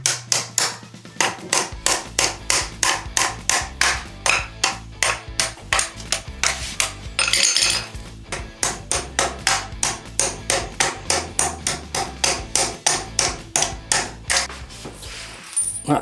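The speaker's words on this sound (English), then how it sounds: "I'll go ahead first of all and just remove these two existing bolts" Tools working loose the old bolts at a toilet base, giving a steady run of sharp, closely spaced metallic strikes with a brief pause midway, close and loud with no talking.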